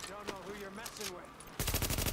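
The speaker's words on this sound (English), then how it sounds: "Literally shooting me before I even come away from that computer thing." Sudden rapid gunfire bursts out at the end, enemies shooting at the player in The Division, following a stretch of a man's speech.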